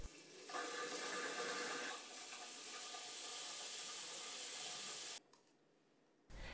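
Water rushes through household plumbing as the supply to a water meter is turned back on, a steady close hiss that swells, holds for several seconds, then cuts off sharply.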